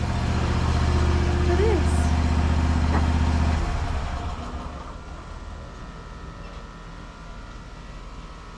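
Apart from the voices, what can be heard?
lawn mower engine idling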